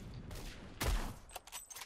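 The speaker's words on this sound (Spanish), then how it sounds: "Son disparos." Gunfire in the online shooter Phantom Forces: a continuous burst of rapid shots with one heavy, booming report near the middle, followed by several sharper distant cracks.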